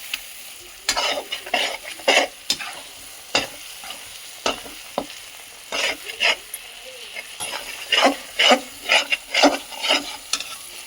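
Masala is roasted in a kadhai, with a soft sizzle and loud, rhythmic scraping strokes of the ladle against the pan coming in quick bursts.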